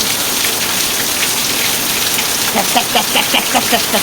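Heavy rain pours outside in a steady, dense downpour, a loud continuous hiss of drops striking surfaces and shaking leaves, with a few faint higher tones toward the end.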